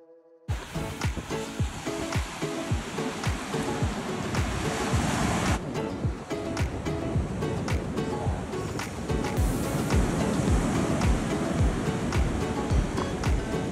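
Surf breaking on the shore at Panama City Beach, Florida, on a gloomy day, a steady loud wash of waves and wind that rolls on without a break.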